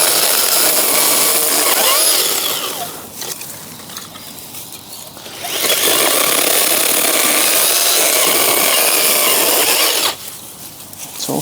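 A Ryobi 18V ONE+ HP brushless 6-inch pruning saw cuts through wood outdoors, a loud, steady buzzing chain whine in two long bursts with a quieter lull between them, no talk.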